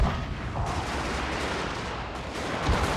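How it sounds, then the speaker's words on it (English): Musket sharpshooters and artillery firing in a Shogun II Total War battle, heard as a dense, continuous rumble of overlapping shots and booms with a heavier blast near the end, no talk over it. "they're stopping and letting their sharpshooters fire, and in conjunction with the artillery"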